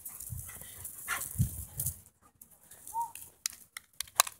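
A dog makes short, scattered sounds, a few brief barks or yelps plus a thin whimper, heard amid scuffling footsteps and rustling outdoors, fairly faint and intermittent with quiet gaps.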